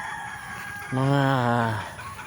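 Chickens let loose in a backyard, with one bird giving a single loud, drawn-out crowing call over a quiet background.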